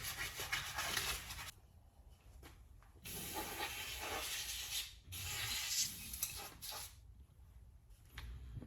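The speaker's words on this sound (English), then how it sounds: "I just got some sandpaper, just light sanding it, get some of the rust off of here." Bursts of gritty rubbing, hand sanding rust off metal with sandpaper during a wheel bearing replacement on a 2015 Audi A6, in several strokes separated by brief pauses, close and steady.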